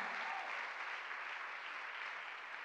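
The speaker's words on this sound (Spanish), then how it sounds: "denle un fuerte aplauso al Señor" A congregation applauds the Lord during a church service, a faint, even rush of many clapping hands that holds steady throughout without pause.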